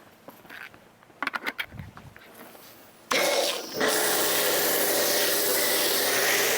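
Low pH car wash being sprayed onto the back of a ceramic-coated car, a steady loud hissing spray that starts abruptly after a few soft knocks and handling noises and continues without a break.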